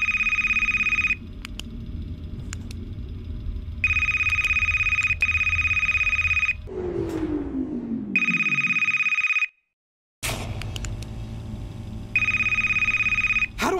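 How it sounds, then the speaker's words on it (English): Telephone ringing in the video game Jollibee Nights, a repeated electronic ring in four clear bursts separated by pauses, with a rising whoosh and brief silence between rings. "How do I answer the damn phone?"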